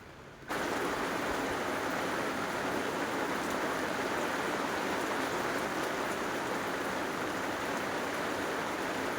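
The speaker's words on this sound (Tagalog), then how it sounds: "Habang umuulan yan" Heavy rain pours down in a dense, constant hiss that comes in abruptly and stays even and loud, with no voices over it.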